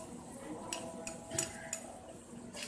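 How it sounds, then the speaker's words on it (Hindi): A spoon stirs chicken achar gosht masala with tomatoes and spices in a pot, giving soft scraping and several sharp metallic clinks against the pan, moderately quiet and steady. "अच्छी तरीके से मिक्स कर देते हैं इसे।"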